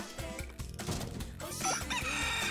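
Chickens cluck and a rooster crows in Katamari Damacy, a few sharp bird calls jumping out over busy, upbeat game music.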